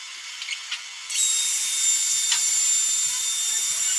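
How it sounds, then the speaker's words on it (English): Robotic arm drilling holes in a fabrication component: a steady high-pitched whine with hiss starts abruptly after a second of quieter machine noise and runs continuously, loud and close. "the robot is actually first drilling the holes in the component"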